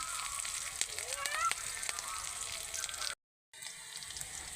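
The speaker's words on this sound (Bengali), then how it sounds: "এখন আমি কাঁচামরিচ দিয়ে দিলাম" Green chilies hit hot oil in a pan that has just fried onions, giving a steady sizzling hiss with a brief clatter, then a short pause before the frying resumes.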